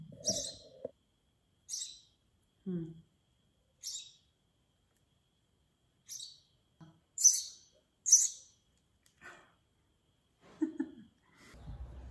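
A small bird fallen from its nest chirps in short, separate bursts spaced across quiet gaps, with a few louder peeps in the middle and soft low sounds between calls.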